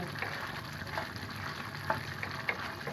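Beef chola ghugni frying with garam masala, a soft steady sizzle under occasional light stirring taps, fairly quiet and close, with no one speaking.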